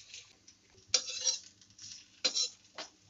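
Capsicum and onion stir-fried together in a kadhai for chowmein, two sharp bursts of metal spatula scraping and clattering against the pan over a faint background, close and brief.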